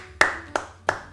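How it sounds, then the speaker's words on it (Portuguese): Three sharp hand claps, evenly spaced and fairly close, standing alone without talk. "Palmas, palmas, palmas, palmas."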